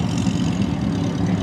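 A stock 383 Magnum V8 in a Hemi orange classic muscle car with a 4-speed, idling with a steady, low, rumbling drone at a car show. The engine is close and loud, and it runs without a break and without voices.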